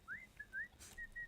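Someone trying to whistle, giving a few faint, breathy rising and wavering notes in short bursts with a brief puff of air between them.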